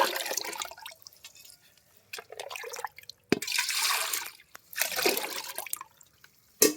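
Water mixed with wood ash is poured onto a rose plant in several separate bursts, splashing and trickling close by with short quiet gaps between pours. No one speaks.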